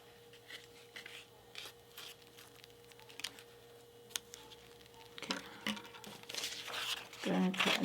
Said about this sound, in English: going to go ahead and cut mine with the black construction paper